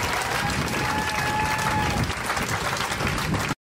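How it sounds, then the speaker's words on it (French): Church congregation applauding loudly together, a dense, steady wash of clapping that stops abruptly near the end. "On acclame très fort le Seigneur."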